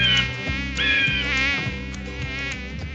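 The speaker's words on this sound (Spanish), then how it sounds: "este pequeño mosquito es el transmisor de una enfermedad" Mosquito buzzing close and steady, a thin whining drone that wavers in pitch over low background music.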